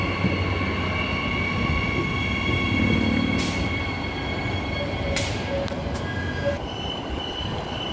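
An electric multiple-unit train, EMU 55, departs Currambine platform 1 rumbling steadily, with sharp metallic wheel squeals and a high electrical whine.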